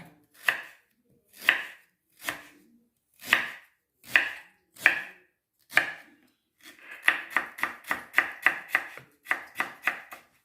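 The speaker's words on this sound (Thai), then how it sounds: "ขิงนี่ยายก็จะหั่นฝอยๆ เลยค่ะ" Knife chopping through fresh ginger on a cutting board to shred it finely, heard alone and close: slow, spaced single cuts at first, then a quicker, steady run of crisp strokes.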